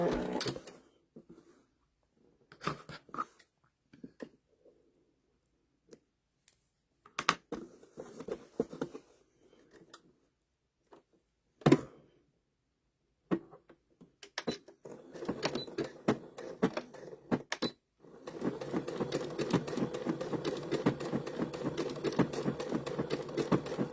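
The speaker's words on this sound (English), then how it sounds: "My treadle machine is a Singer." A Singer treadle sewing machine runs in short stop-start bursts, then settles into a steady, close mechanical clatter that continues for several seconds.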